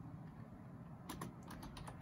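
Soft, quick keystrokes on a computer keyboard, a short burst of clicks near the end over a quiet room hum, setting up text in Cricut Design Space.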